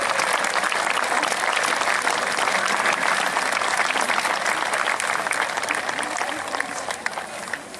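A crowd at a medieval knights' festival at Ebernburg applauds and cheers the heralds, thick continuous clapping with raised voices mixed in, fading slightly toward the end.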